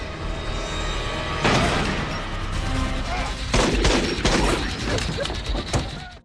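Gunfire in an action film scene about a drug-money handover, where shots hit a minibus driver: sharp, loud bursts of shots with booming impacts rise over a tense, busy soundtrack.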